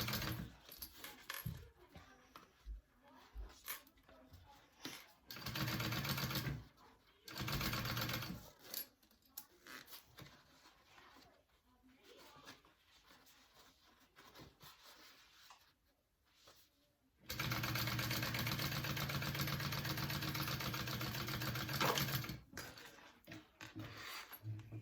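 A sewing machine top-stitches a zipper seam flat on a fabric bag in several separate runs of steady, rapid mechanical whirring, with quiet handling and shuffling of material between bursts.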